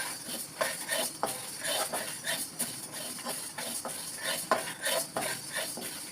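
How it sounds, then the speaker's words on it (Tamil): Toor dal slow-roasting in a pan for kuzhambu chilli powder gives a steady dry hiss broken by frequent scraping and clinking strokes of a spoon against the metal, close by and with no voices. "தோரம்பருப்புக்கு கொஞ்சம் நேரம் வறுக்கணும்."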